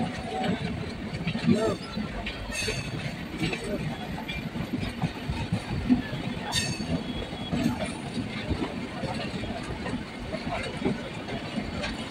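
Howrah–Digha Tamralipta Express passing alongside a local train, a continuous rumbling roar of wheels and carriages with occasional squeals and clanks, fairly close, with a voice talking over it.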